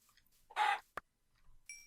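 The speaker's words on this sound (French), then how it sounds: "Oh, poulet." A Minecraft chicken clucks in a short burst of bright, clipped noise, followed by a sharp click and a faint high tone, fairly close and clear with no talking over it.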